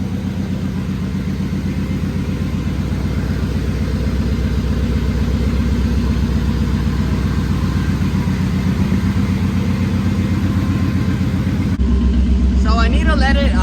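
A Nissan 240SX engine idles steadily with a low, even rumble and a cooling fan running, continuous and close, with a voice speaking briefly at the end.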